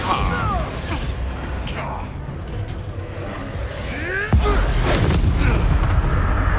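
The Bombarda blast spell in Hogwarts Legacy goes off with a sudden loud booming burst mid-fight, followed by heavy rumbling and crackling amid whooshing spell effects and mechanical clanks.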